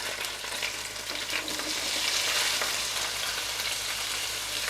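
Vegetables for Sicilian caponata sauté in a pan with an even, bright sizzle and soft stirring, steady and close from start to finish.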